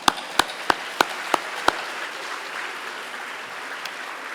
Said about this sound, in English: One more time, one more round of applause.